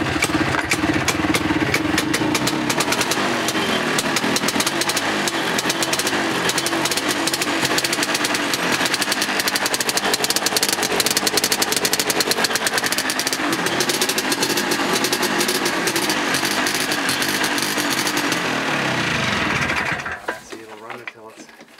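A snowmobile engine runs on its first start of the season at minus 22, a loud, steady, rattling two-stroke drone close by for about twenty seconds before it cuts off abruptly near the end.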